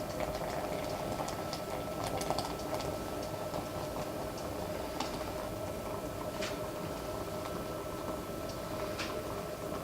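Hot water being poured steadily into a French press to about 800 grams, a continuous close liquid rush with faint clinks, running alone without talk.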